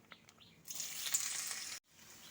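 Chopped garlic drops into hot oil already tempered with a bay leaf, sparking a short, fairly soft hissing sizzle of about a second that then cuts off into near quiet.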